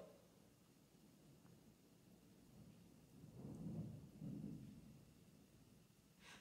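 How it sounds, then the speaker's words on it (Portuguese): Faint distant thunder rumbling low in two soft rolls midway through, over a quiet background hiss. "Tô escutando trovão daqui."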